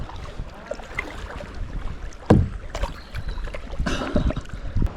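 A single-seat kayak canoe is paddled on cold water, with splashing strokes and drips close by over a steady outdoor wash of wind, one stroke standing out sharply midway.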